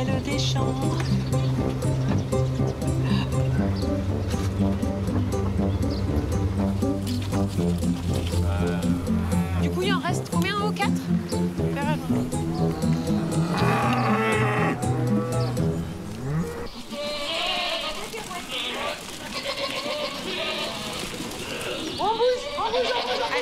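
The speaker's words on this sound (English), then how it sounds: "It's how he herds the cattle from one field to the next." Charolais cattle moo repeatedly and loudly while being herded from one field to the next, long low calls overlapping one another, with narration speaking over them.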